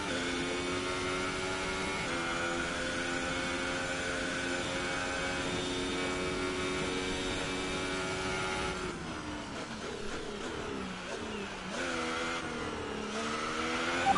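Formula 1 race car engine in an F1 racing game at the Italian Grand Prix, a loud steady high-pitched whine holding at speed, then dipping and climbing through gear changes and braking near the end, with no voices.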